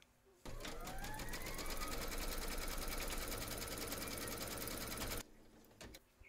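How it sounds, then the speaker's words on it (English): An embroidery machine stitches a placement outline round in the hoop of an in-the-hoop teddy and unicorn bag, a steady rapid mechanical whirr running for about five seconds after a brief start, then stopping with a few faint clicks. "Pop your hoop into your machine and stitch round number 1, and that's going to give you a placement outline for your batting."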